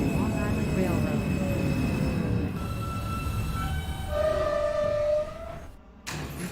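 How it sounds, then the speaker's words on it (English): NYC Subway R160 J train running in the OpenBVE simulator, a steady rumbling ride with rising and falling motor whine tones, a brief dropout near the end, and talk over parts of it. "This is a Brighton Beach bound J train."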